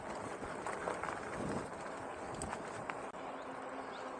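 Horses' hooves clip-clop on a UK road beside a passing e-bike, faint and mixed into steady wind and road noise with no one talking.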